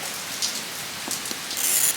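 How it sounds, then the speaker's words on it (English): Rain falls outside in a steady, soft hiss on surfaces, with scattered faint droplet taps; no one speaks. "Remember I mentioned it was raining today?"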